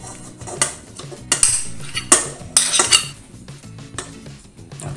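Lard being scraped into a mixing bowl for a centuries-old pastel de cierva pastry dough, heard as a run of close metal-on-bowl scrapes and clinks with a few sharper knocks, no talking.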